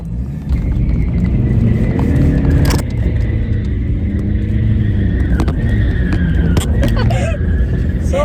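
A fully loaded car pulls hard in second gear, its engine giving a loud, close, sustained droning rumble from the cabin with brief clunks and rattles, and occasional voices under the noise.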